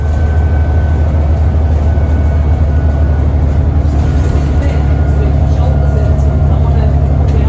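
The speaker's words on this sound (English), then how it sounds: "Right, we're on the bus." Inside a moving bus in Cornwall, a loud, steady engine drone and road rumble fill the cabin continuously, with voices talking over it.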